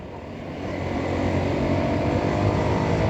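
Motorbike riding along a mountain road near Ciater, its engine a steady broadband drone mixed with wind rush, holding loud and even throughout with no voices.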